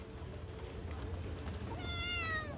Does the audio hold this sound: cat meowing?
yes